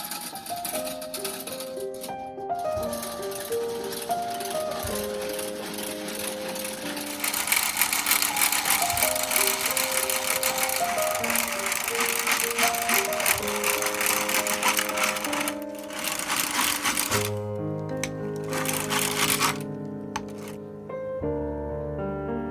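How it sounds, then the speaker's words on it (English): An electric mixer whips egg whites with sugar for an old-fashioned orange pudding topping, a steady mechanical whirr that rises in pitch and intensity partway through, then slows and changes tone near the end. "Beat the whites of the eggs stiff with half a cup of sugar."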